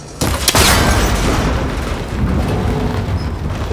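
A cable connector bursts apart when shot in Horizon Forbidden West, a sharp close crack followed by a heavy booming rumble and a lingering scatter of debris that fades slowly.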